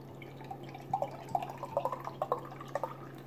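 Freshly poured beer fizzing with prickly carbonation, a quiet scatter of small crackling pops and drips that builds over a few seconds, close and faint, with no talking.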